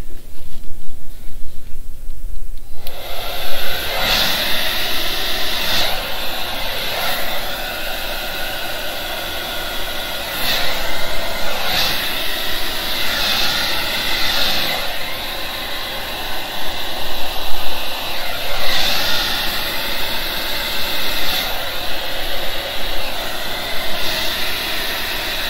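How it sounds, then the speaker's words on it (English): A hair dryer switches on and blows alcohol ink with a loud, steady whoosh, its airflow wavering slightly as it is moved around, running continuously nearby. "let me get my hair dryer out and try to blow it back"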